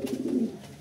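A newly caught female pigeon, released and loose, gives a low, soft coo, a steady murmuring call running close and fairly quiet through most of a brief moment.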